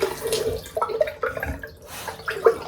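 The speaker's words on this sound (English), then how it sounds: "Rinse the cup out. More water in the cup." Water splashes and sloshes in a small denture cup as it is rinsed, with short gurgling swirls and drips close by, uneven and choppy.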